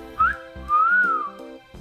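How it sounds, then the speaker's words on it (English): A person whistles a clear, wavering melody up close, rising and gliding through a short tune, over a steady background tone with low thumping pulses. "Can you whistle? Yes, I can."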